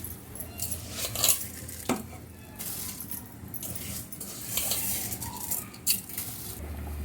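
A spoon scrapes and clinks against a metal pot as rice is stirred, a few irregular strokes over a soft background hiss.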